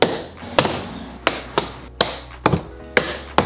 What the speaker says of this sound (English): Let's start popping off the door trim.